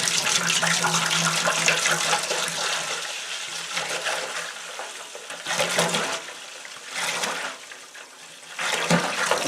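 Apple cider poured into a large pot for a moonshine batch, a steady rushing liquid stream that swells and pauses in bursts, close and fairly loud, with no talk.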